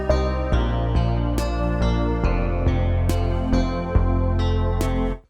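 A song sample plays back from an Akai S1000 sampler: loud, full music with punchy drum hits landing roughly every half second over sustained tones, ending abruptly after about five seconds, no talking.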